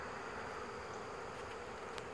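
A small swarm of honey bees, roughly two to three pounds, gives off a steady, dense buzzing drone that holds evenly throughout, moderately loud and continuous with no voices.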